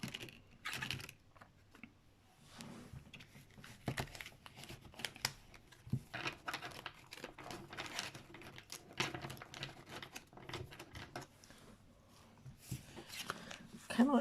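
Small oracle cards being shuffled by hand, a soft run of quick papery flicks and riffles in uneven bursts, close and fairly quiet with faint room tone.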